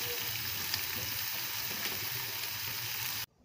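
Carrots fry in a pan with a continuous soft, even sizzle that cuts off abruptly at the end; no voices.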